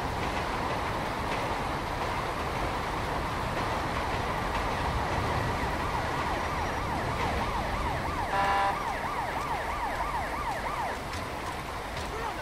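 An ambulance siren wails continuously in GTA 5 during a police patrol mod scene, a steady rising-and-falling tone over a constant rumbling engine and road bed, loud and near throughout with no talk.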